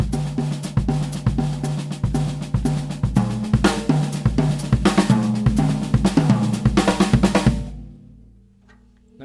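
Drum kit playing a right-left-left-kick subset pattern in fours and twos: fast, driving, evenly spaced hits with steady kick accents, loud and close, ringing out after the playing stops.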